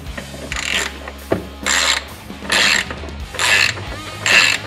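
A ratchet clicks in five short bursts, cranking off 10 millimeter bolts on a CFMoto during an air filter upgrade, each burst a close, crisp run of pawl clicks separated by brief pauses.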